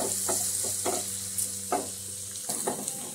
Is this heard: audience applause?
no